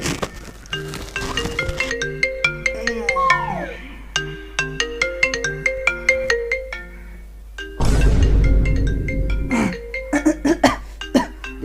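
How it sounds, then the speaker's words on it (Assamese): A phone ringtone plays as a melodic chiming tune with sharp repeated notes, loud and close, with a brief burst of broadband noise partway through; no one speaks over it. "দিদা ফোন করেছে"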